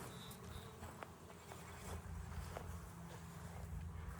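Honeybees buzzing around a Langstroth hive outdoors, a soft, steady, low drone with occasional nearby passes, faint and continuous, without speech.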